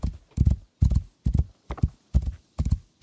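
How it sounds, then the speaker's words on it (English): A horse ridden in the video game Rising World, heard as seven evenly spaced clip-clop hoofbeats in a steady trotting rhythm, close and clear with no talking. "Horse is so much nicer."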